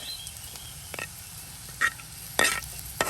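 Boiled, chopped potatoes are stirred into masala in a pan, producing faint soft sizzling with a few sharp scraping clatters of the spoon against the pan.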